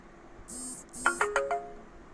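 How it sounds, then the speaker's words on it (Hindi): A mobile phone rings during a spoken astrology lecture, a short melodic ringtone phrase of several chiming tones heard fairly softly in an otherwise quiet room. "सॉरी, किसी का फ़ोन आ गया था,"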